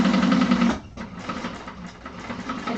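A sewing machine bastes fabric layers together for a martini bag, whirring at an even pace with a short pause before the stitching resumes slightly softer.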